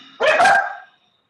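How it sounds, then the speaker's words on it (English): A single loud, close bark from a dog, sharp onset and brief tail, followed by silence. "there goes a beautiful dog"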